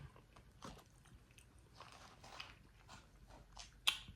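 Soft, close mouth sounds of someone eating Dave's Hot Chicken mac and cheese, with scattered chewing and wet bites and one sharper click near the end, faint and unaccompanied by talk.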